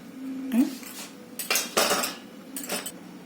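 A spoon adds chili powder to ground masala in a pan while making stuffed brinjal, producing a few close metallic clinks and scrapes against the pan in short separated bursts.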